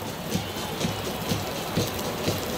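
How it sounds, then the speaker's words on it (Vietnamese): Heavy rain pours onto an outdoor football pitch during a match, a dense, loud hiss of drops with soft rhythmic thuds and no voices. "Mưa tầm tã."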